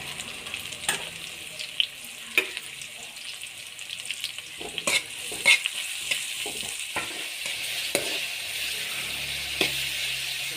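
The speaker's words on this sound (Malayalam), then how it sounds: "എണ്ണ ചൂടായി കഴിയുമ്പോൾ ആദ്യം നമ്മൾ അരിഞ്ഞു വെച്ച ഉള്ളി ഇടുക" Chopped onions fry in hot oil in a pan for a Kerala-style pearl spot pepper roast, giving a steady close sizzle broken by repeated sharp scrapes and clacks of stirring, with no talk.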